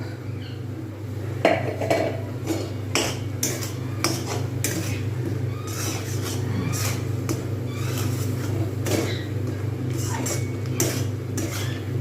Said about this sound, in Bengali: ছাতুটা দিয়ে দেবো যে ছাতুটা বানিয়েছিলাম ওটা দিয়ে দেবো ভালো করে এবার মিক্স করবো